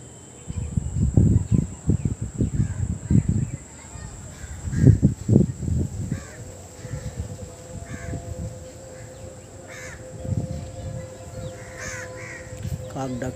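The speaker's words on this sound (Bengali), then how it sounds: "কাক ডাকছে" Crows caw in repeated harsh calls, loud and close early on, then sparser and fainter, with a faint insect hum behind them.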